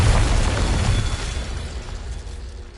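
A Confringo blast spell in Hogwarts Legacy erupts as a loud, deep explosion at the start, then a rumbling boom that gradually trails off.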